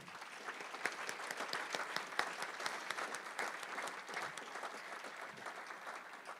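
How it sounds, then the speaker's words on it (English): A room of Rotary Club luncheon guests applauding healthcare workers, sustained crisp clapping from a medium-sized audience, fairly distant and even, lasting several seconds without speech. "Can we give them a round of applause?"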